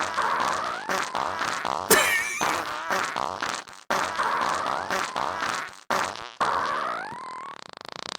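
A recording of a fart cover of a song plays, a run of pitched, buzzing fart notes in a choppy chiptune-like rhythm, loud and close, with short breaks between phrases.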